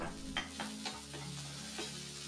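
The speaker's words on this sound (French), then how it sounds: "Dans une sauteuse à feu moyen, y mettre une cuillère à soupe d'huile, faire revenir 20 secondes l'ail et l'oignon" Garlic and onion fry in a spoonful of oil in a sauté pan over medium heat, a quiet steady sizzle broken by a few soft stirring scrapes.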